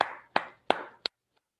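Applause for junior debaters at a debate final, heard as four sharp, separate hand claps at a steady pace, each ringing briefly before the next, then fading to a faint tap.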